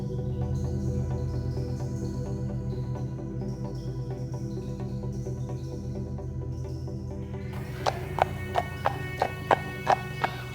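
A single horse walks with steady, rhythmic hoof clip-clops growing sharper and louder toward the end, with no talking.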